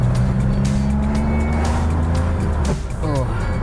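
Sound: 1977 Porsche 911S shifting gears with worn synchros

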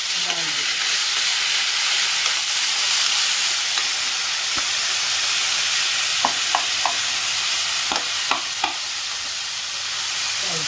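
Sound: lentils frying and being stirred in a pan

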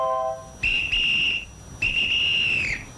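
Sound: alarm sounding

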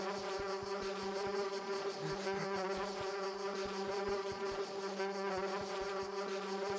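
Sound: buzzing bees in the video game Lakeview Cabin

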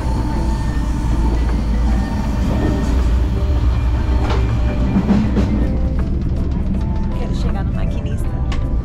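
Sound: Vale passenger train running on rails, heard onboard

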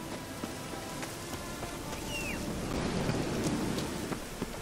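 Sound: rain and thunder in video game The Witcher 3

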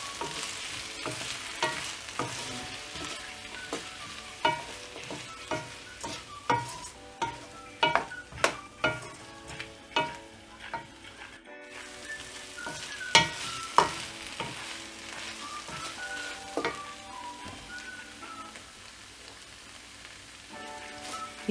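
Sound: onions frying and being stirred in a pan

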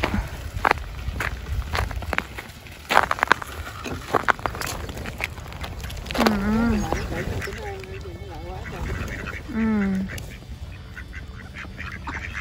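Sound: ducks walking on a frozen lake

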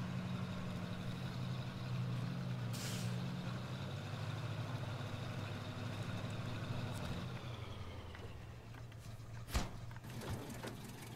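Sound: truck engine shutting off in SnowRunner video game

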